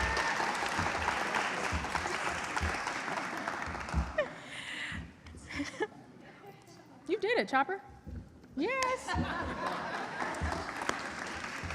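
Audience at a Gwinnett 101 Citizens Academy graduation applauds as the Gwinnett Stripers mascot Chopper is welcomed, a steady wash of clapping and some laughter mixed with a host's amplified speech and cheers.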